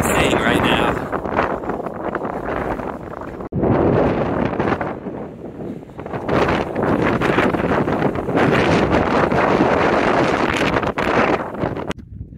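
Loud, constant wind roars and buffets the microphone on Oat Mountain for the whole stretch, briefly dropping near the start and cutting off at the very end.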